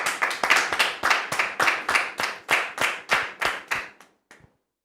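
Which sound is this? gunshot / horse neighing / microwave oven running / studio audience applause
studio audience applause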